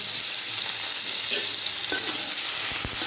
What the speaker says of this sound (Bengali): তেলটা গরম হয়ে গেছে, আমি চিংড়ি মাছটা হালকা করে ভাজি, লঙ্কাও করে দেবো